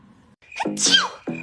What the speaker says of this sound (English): that is my real sneeze